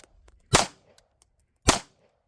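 Two sharp suppressed rifle shots, fired with 40 grain VMAX FN ammunition through a Huxwrx Flow Ti suppressor, crack about a second apart, close and loud over near silence.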